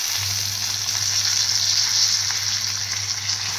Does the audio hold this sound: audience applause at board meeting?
no